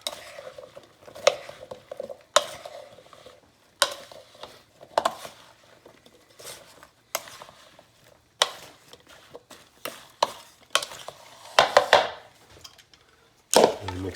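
A spoon tosses penne pasta with roasted vegetables in a bowl, giving repeated wet, clattering stirs in short bursts with quiet pauses between them.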